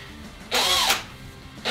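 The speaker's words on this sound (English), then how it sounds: "We take a drill. We get a drill bit that's about half the size of the hole." A power drill spins a drill bit wrapped in steel wool in short bursts: a brief whir rising and falling, a pause, then another start, close up and alone.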